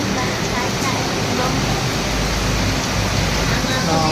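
Steady rain pours down at night, a dense even hiss that fills the whole stretch without a break and stays loud and close throughout.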